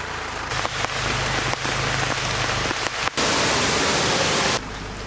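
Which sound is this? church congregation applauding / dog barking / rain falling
rain falling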